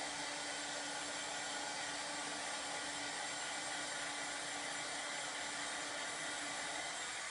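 A hair dryer blows steadily on a transfer laid over a pillow, producing a loud, constant whooshing hum at close range with no pauses throughout.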